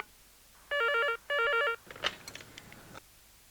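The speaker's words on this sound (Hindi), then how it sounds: "मोबाइल कंपनी को फोन करो" A telephone rings in two loud, clean electronic trilling bursts on a call line, then gives way to brief clicks and handling noise; a Hindi crime drama setting.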